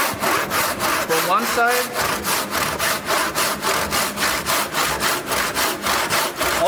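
A hand saw makes an angled cut in timber while building a timber frame, a loud, close, steady rhythm of rasping back-and-forth strokes, roughly three per second, with a brief spoken remark partway through.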